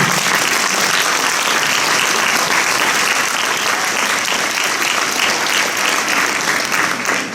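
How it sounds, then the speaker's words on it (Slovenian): Loud, steady applause fills a school charity concert hall, a dense wash of many clapping hands that holds at an even level for over seven seconds. "en aplavz za njega, lepo prosim."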